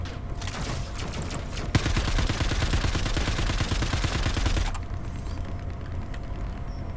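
Rapid automatic gunfire rattles in the first-person shooter Star Citizen, a sustained burst of dense, close shots that stops abruptly, leaving low background game noise.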